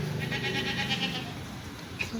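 Goat bleating in a village, a few wavering bleats fairly close over a busy outdoor background, fading near the end.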